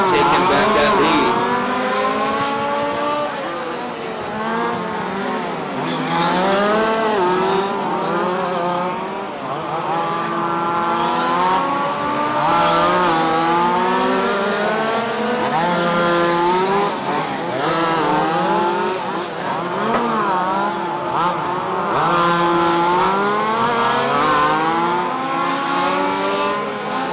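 Race cars at full speed on an oval track during a live-streamed race, their engines droning continuously and loudly throughout with shifting pitch as they pass, under steady commentary from an announcer.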